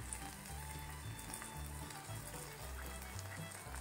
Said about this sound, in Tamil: நம்மளோட வெங்காயமும் சூப்பராக நல்லா வதங்கிடுச்சு, லைட்டாக கருகவே செஞ்சுட்டேன்